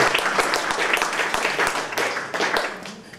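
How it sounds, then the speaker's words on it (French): An audience at a festival's open-stage event applauds. The clapping is dense and continuous, close and fairly loud, and lasts a few seconds without letting up. "On peut les applaudir tous les deux."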